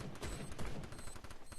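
Rapid gunfire in a first-person shooter game, a quick crackling burst of repeated shots with mechanical clicks, faint and compressed, lasting under two seconds with no talking.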